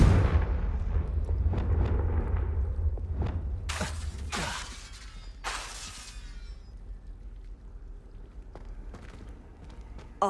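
A Confringo blasting spell in Hogwarts Legacy sends out a low rumbling boom, then several sharp cracking, shattering bursts that fade into a quieter tail.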